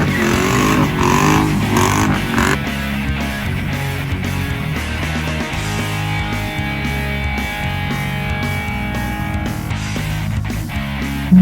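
Mercedes CLK55 W209 V8 engine idling and revving, a close, steady low rumble with throttle swells early on, settling into an even burble without speech.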